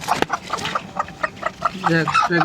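A country hen clucks among duck chicks in a rural farmyard, giving a quick run of short, rhythmic clucks close by, with a few softer peeps and murmurs mixed in.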